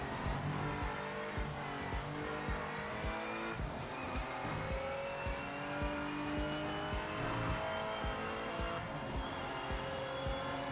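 A Porsche race car in a racing video game drones steadily throughout, its engine holding a continuous tone with faint tire noise, unbroken and fairly loud with no talk over it.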